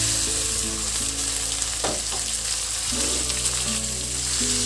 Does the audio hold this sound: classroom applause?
no